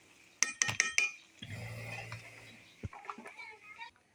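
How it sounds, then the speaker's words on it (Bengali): Sharp metallic clinks and clatter as a lid is set on a pot of bitter gourd curry on the stove, followed by a low bubbling simmer and a few more clanks. "বন্ধুরা এখন ঢাকনা দিয়ে দিব।"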